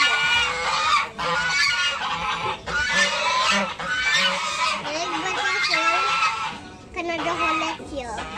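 Geese honk loudly and continuously at close range near a chili harvest, their calls overlapping with short breaks, while a person talks alongside.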